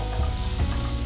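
Sliced onions and long-cut raw mango sautéing in a hot pan, a dense, close, continuous sizzle with a few soft stirring bumps, no voices.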